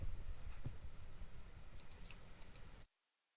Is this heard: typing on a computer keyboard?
yes